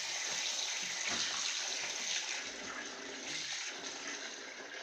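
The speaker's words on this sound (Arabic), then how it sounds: "كمان شويه ميه خفيفين." Water streams steadily over salted turnip pickle in a container, a continuous light splashing pour with a gentle gurgle and no voices.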